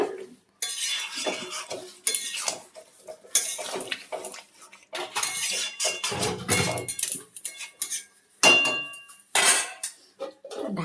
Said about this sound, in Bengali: এবার ঢাকা দিচ্ছি।